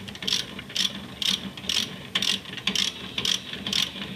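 A ratchet turns an 18 mm six-sided socket while a float switch inlet cartridge comes off a Baxi unit, giving nine evenly spaced, crisp clicking strokes, close and clear with no voices.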